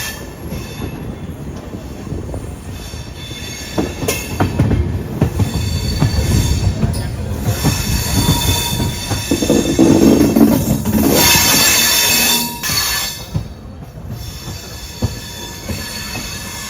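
A Rameswaram–Tambaram Express passenger train runs on the Rameswaram line from Manamadurai toward Karaikudi. It gives a loud, steady rumble of rolling rail cars with wheel squeal throughout, swelling near the middle, and no voices.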